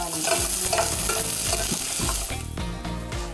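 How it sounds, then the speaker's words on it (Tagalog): Garlic and onion sautéing in a pan for a carabao and beef dish, a steady close sizzle broken by repeated scraping stir strokes, with no talk. "Igigisa muna ang bawang at sibuyas."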